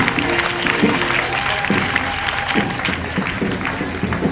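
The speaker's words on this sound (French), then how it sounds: "Un banc d'applaudissements pour nos enfants." A church congregation applauds the children at a thanksgiving service, a steady wash of clapping filling the space with a faint tonal hum and scattered voices underneath.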